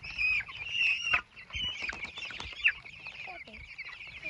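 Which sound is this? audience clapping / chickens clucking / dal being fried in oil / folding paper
chickens clucking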